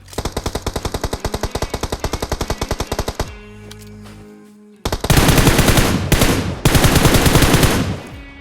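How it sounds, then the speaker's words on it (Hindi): Gunfire in the mobile shooter PUBG Mobile (BGMI): a fast, evenly spaced automatic burst, a short lull, then heavier, denser bursts of shots, loud and close, with no talking. "और उतने में सामने से चलती है गोली।"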